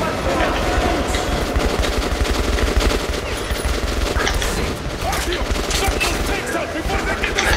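Rapid automatic gunfire from the video game Metro Last Light, loud and continuous, with dense bursts of shots mixed with game noise.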